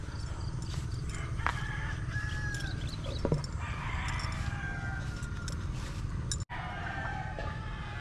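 Sweater broodstag gamefowl and Gilmore pullets in a breeding pen, with soft clucks and a few brief fowl calls over a constant low background hum, fairly close.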